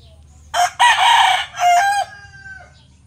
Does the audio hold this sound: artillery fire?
no